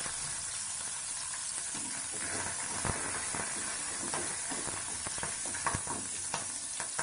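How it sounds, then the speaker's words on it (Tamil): Mustard seeds and urad dal tempering in hot oil, a dense close sizzle and hiss with scattered sharp crackles and pops from the seeds, no talking. "முதல்ல கடுகு உளுந்தம் பருப்பு தாளிச்சிக்கலாம்"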